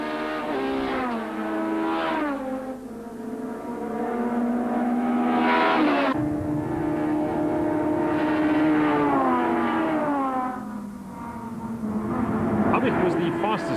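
Rally cars race around the track at Kalani, engines rising and falling through repeated gear changes as they pass, loud and fairly close, with commentary talking over the engine noise throughout.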